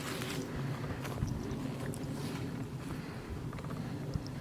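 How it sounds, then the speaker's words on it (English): Wind gusting steadily outdoors around Borley Church, a low continuous rumble with soft buffeting against the microphone and no voices. "the wind's just picked up now"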